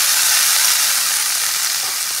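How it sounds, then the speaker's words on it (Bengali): Potato, onion and chopped chili hit hot oil in a home kitchen pan, giving a loud, steady, dense sizzle with no talking throughout. "তো তেলটা গরম হয়ে গেছে, এবার সবজিটা দিয়ে দেবো।"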